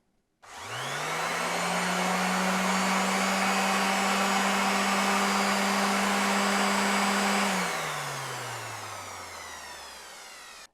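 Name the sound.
TOPSHAK TS-SD4 random orbital sander running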